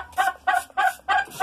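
A turkey hen, wounded on her back by a young tom, gives four evenly spaced clucking calls, close and fairly loud, with short silent gaps between them.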